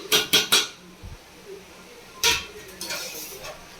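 A metal spoon clinks and taps against a pan in a quick burst of three, then a few more knocks, as masala spices go into a bitter gourd kulambu.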